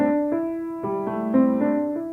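A short pentatonic riff of single plucked guitar notes, about seven of them, played alone at a soft, steady volume.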